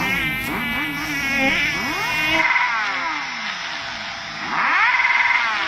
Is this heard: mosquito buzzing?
yes